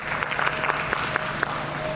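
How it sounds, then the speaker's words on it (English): Crowd applause opening a halal trade event, a steady wash of many hands clapping with a few sharper individual claps standing out, with faint talk underneath. "round of applause for this event"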